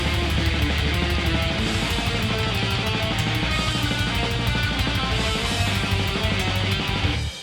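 Heavily distorted electric guitar with overdrive and a touch of reverb plays a dense metal riff with driving low chugs and repeated picked notes, loud and steady, then cut off abruptly at the end.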